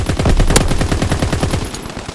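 Rapid machine-gun fire from an aircraft strafing run in the World War II shooter game Call of Duty: WWII, a loud continuous stream of evenly spaced shots lasting about two seconds, with no voices.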